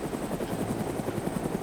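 Helicopter flying low overhead in the video game DayZ, a steady rapid rotor chop at close range for a short stretch, no voices.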